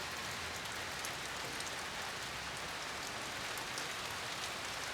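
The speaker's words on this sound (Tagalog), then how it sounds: "Malakas na po yung ulan." Heavy rain drums on a galvanized iron kitchen roof, a dense, steady hiss of countless drops that goes on unbroken and fairly faint, with no voices.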